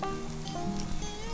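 Sweet kuzhi paniyaram frying in a generous amount of oil in a paniyaram pan over a low flame, giving a steady, close, soft sizzle with faint crackles throughout and no talking.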